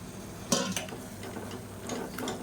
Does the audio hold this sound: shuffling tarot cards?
no